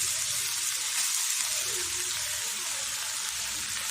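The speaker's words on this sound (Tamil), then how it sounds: "இப்போ இது லோ ஃப்ளேம்லேயே இதை வதக்கி விட்டுருவோம்" Garlic and grated ginger sauté over a low flame for chicken fry, giving a steady, continuous sizzle with a broad hiss that holds at an even level throughout.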